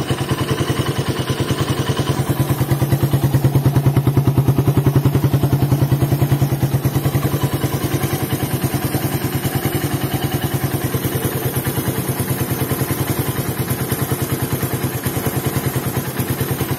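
A Suzuki Satria FU motorcycle engine with a PWK 28 NGO carburetor setup runs steadily at close range, a loud, even rhythmic pulsing that swells briefly around the middle and settles back, with no talk over it.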